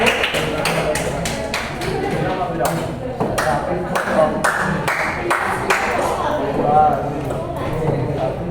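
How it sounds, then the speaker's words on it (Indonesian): A group applauds with scattered, uneven claps that continue for several seconds, while voices murmur underneath. "Beri tepuk tangan untuk kelompok 1."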